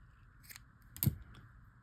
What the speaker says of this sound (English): I'm actually going to trim this off a little bit.